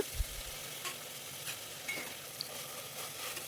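Ginger garlic paste with coriander and mint leaves fries in a pan for a soya chunks vegetable rice bath, giving a faint steady sizzle with a few soft stirring scrapes and light clinks.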